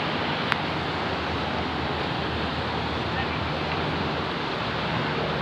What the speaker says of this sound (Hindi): नदी है, ये अलकनंदा नदी।